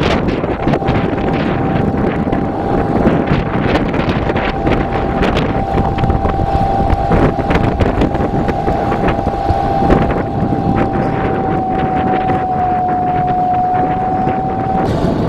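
A cheap adult electric scooter climbs a slight incline at a steady 20 km/h, with loud, continuous wind buffeting over the microphone and a faint, steady motor whine running throughout.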